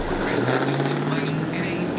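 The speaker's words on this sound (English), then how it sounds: "Aventador na ulicy" A Lamborghini Aventador on a city street near a motor show gives a loud, close, continuous engine drone with a steady low tone, and speech can be heard beneath it.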